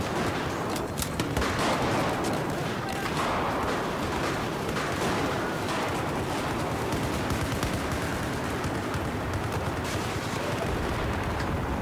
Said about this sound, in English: I normally use this for burst fire because it's got quite consistent recoil